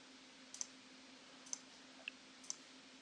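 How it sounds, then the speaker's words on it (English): Four faint, crisp clicks spaced about a second apart from a computer mouse while brushes are stamped in Photoshop CS5, over a quiet steady hum. "and I can just click a few times"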